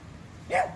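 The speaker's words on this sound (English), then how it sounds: "that's my dog barking in the background." A dog gives one short, sharp bark near the end, fairly close and clear against a quiet outdoor background.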